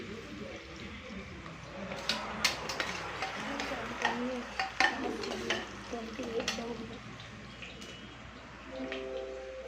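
Onions being sautéed in a pan for chicken biryani: a soft background sizzle broken by frequent clinks and scrapes of a spoon stirring against the pan, with a voice talking over parts of it.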